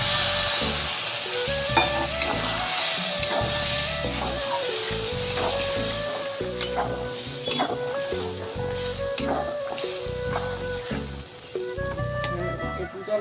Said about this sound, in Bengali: এখন আমি এতে অল্প একটু জল দিয়ে ঢেকে দেবো।